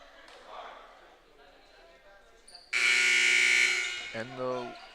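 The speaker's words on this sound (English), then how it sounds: "And the buzzer has been buzzed." A loud electronic buzzer at a varsity basketball game blares for about a second and a half to end a timeout, then a shorter tone follows, over faint background talk.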